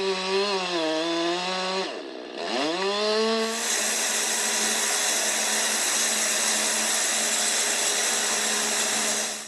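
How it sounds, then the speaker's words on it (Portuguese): A chainsaw felling trees during Amazon rainforest deforestation revs up and down in a few loud swells, then settles into a steady, high, buzzing cut that drones on continuously. "Nós vamos eliminar esse som da motosserra e da árvore caindo, né?"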